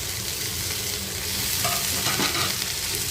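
Finely chopped safflower greens go into a pan of fried onion, green chili and tomato. A loud, continuous hissing sizzle fills the pan, broken by stirring scrapes and a brief flare of crackle partway through.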